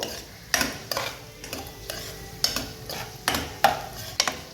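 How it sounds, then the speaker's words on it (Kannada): Carrots and beans frying in a pan for egg rice, with a spoon scraping and stirring in repeated distinct strokes over a soft steady sizzle, close and clear. "ಈ ಥರ ಚೆನ್ನಾಗಿ ಫ್ರೈ ಮಾಡ್ಕೋಬೇಕು."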